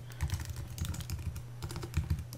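Fingers type quickly on a computer keyboard while writing code, a close, irregular patter of clicking keys with short pauses between bursts and no talk.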